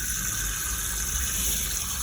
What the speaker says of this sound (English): So it's just a little 12-volt mixer tap,